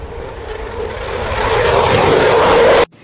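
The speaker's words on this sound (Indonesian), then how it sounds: "jet tempur." A fighter jet roars past, its loud engine noise swelling steadily over a few seconds before cutting off abruptly.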